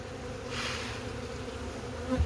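Honey bees buzz at a hive in an apiary during the honey super harvest, a soft steady humming drone that swells slightly and continues throughout.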